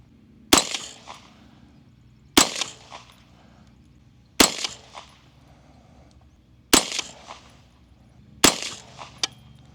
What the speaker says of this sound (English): Gonna shoot a couple 5-shot groups with these CCI Maxi Mags.